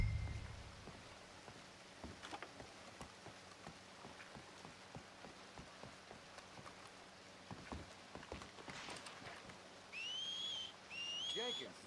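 A whistle in the Red Dead Redemption 2 game, two short rising whistle notes near the end following steady rain on water and scattered drops.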